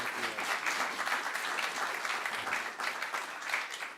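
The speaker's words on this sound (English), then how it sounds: "I hope you'll all join me in a round of applause to welcome both Mike and J-Mart" An audience applauds to welcome guests onto the stage at an election-coverage talk. Dense, steady clapping from a crowd lasts the whole stretch at even loudness.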